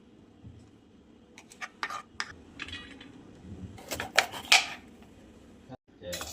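Cabbage is chopped finely with a knife on a board, producing irregular bursts of quick crisp taps and cuts that grow denser and louder near the end, with a pause just before the close.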